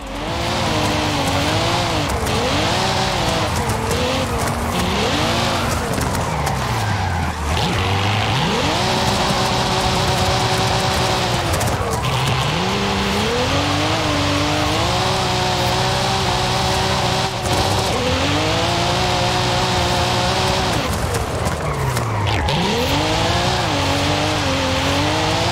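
A manual Cadillac CT4-V Blackwing in Forza Horizon 5 is driven hard and sliding into oversteer. The engine revs rise and fall through repeated gear shifts, with tire squeal in a loud, continuous stretch and no talk.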